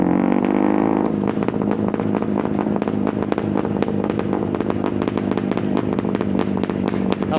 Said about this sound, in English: That's quite an exhaust note.